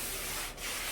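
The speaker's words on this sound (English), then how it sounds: "use a flat sanding disc and just let it run along" A flat sanding disc runs across a cured epoxy surface with a steady, loud abrasive hiss that dips briefly midway and then resumes.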